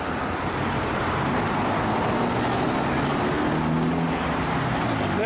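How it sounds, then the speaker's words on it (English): A long city bus passes along a busy street, a steady broadband roar of traffic and engine rumble holding throughout at moderate level with no talk. "Big long bus."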